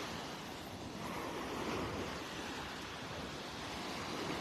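Ocean waves breaking on a beach in North Naples, Florida, a dense continuous roar of surf with wind buffeting the camera microphone, close and loud without pause.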